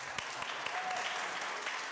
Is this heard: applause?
yes